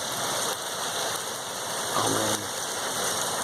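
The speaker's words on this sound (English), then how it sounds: "It's absolutely bucketing." Heavy, pouring rain during a storm around a new home, a dense steady hiss of downpour close by and loud throughout, with a brief voice speaking partway through.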